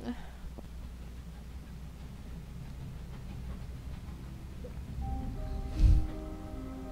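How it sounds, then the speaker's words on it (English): Train ride ambience from the video game The Room Three: a steady, low, rumbling carriage drone continues throughout. A brief tonal chime and a soft thump sound near the end. "I'm on a train."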